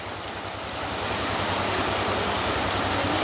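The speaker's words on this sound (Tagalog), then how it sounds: "Masyado kasing malakas ang agos." A strong river current rushes past in a loud, continuous, broadband roar that swells slightly and holds steady throughout, with no voices.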